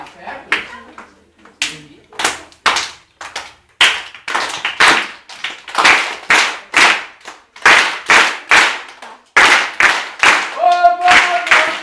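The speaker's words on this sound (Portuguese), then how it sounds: "Agora a gente vai aprender a bater as palmas na capoeira" Rhythmic hand clapping for capoeira, a run of sharp, close claps in short repeating bursts with brief pauses between groups, loud and dry with no one talking.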